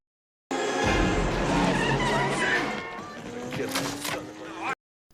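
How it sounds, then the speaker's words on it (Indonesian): A motorcycle taken from a passing rider speeds off during a film chase, its loud revving engine mixed with skidding tire noise and a rising whine, cutting off abruptly after about four seconds. "si John pun bergegas pergi dari sana dengan menggunakan motor yang diambilnya dari salah satu pengendara yang sedang melintas"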